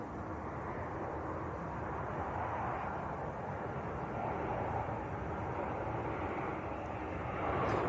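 Ryanair airliner from Berlin, with Maltese registration, passing at Manchester Airport as a steady broadband jet roar that holds level throughout and swells slightly near the end, with no talk over it.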